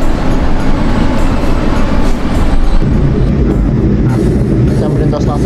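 KA Mataram economy train, heard from inside while running fast at around 120 km/h through Cirebon: a loud, steady low rumble and rail roar that continues throughout without a break.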